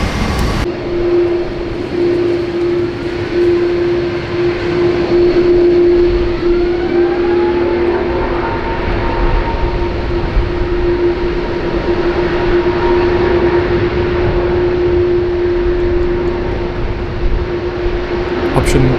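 A Delta Airlines Airbus A350-900 with two Rolls-Royce Trent XWB engines spools up for takeoff at Sydney Airport, making a loud sustained roar with a steady whining tone that holds for the whole passage.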